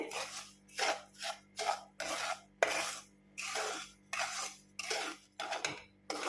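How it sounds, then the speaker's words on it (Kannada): Semolina (rava) roasting in ghee for mango rava kesari, stirred in a pan with a spoon: repeated rhythmic scraping and rasping strokes, close and fairly loud, about eight to ten sweeps with brief pauses, no voices over them. "ಇದನ್ನು ಒಂದು ಟೂ ಮಿನಿಟ್ಸು ತುಪ್ಪದಲ್ಲೇ ಚೆನ್ನಾಗಿ ಫ್ರೈ ಮಾಡ್ಕೊಳ್ಳೋಣ"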